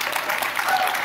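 A brief stretch of steady audience applause at a panel event, with dense overlapping claps held at an even, moderate level.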